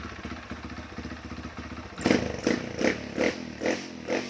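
A freshly rebuilt Honda MSX motorcycle engine idles with a steady low putter, then is revved in a series of short, rhythmic blips that rise and fall about every half second, close by.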